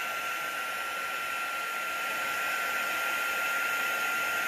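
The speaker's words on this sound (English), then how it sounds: "Make them look a little bit more natural with my heat gun." Heat gun blowing steadily over marble-look metallic gold geode resin coasters, a loud continuous whooshing hiss with a constant whine that holds unchanged throughout.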